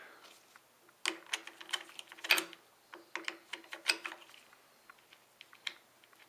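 Screw backed out of a Mosin Nagant rifle with a multi-tool, heard as a quick run of small dry ticking, ratcheting clicks, close up and fairly quiet, with brief pauses between bursts.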